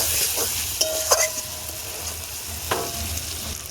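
Spice paste sizzles and fries in oil in a pan while a mutton head curry with jackfruit is cooked village-style, with a steady crackle, a few sharp stirring clicks and scrapes, close and fairly loud.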